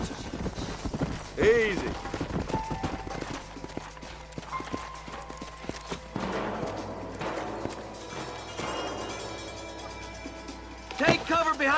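Horse hooves clip-clop in Red Dead Redemption, a steady trotting rhythm running through game dialogue and background music, with a louder burst near the end.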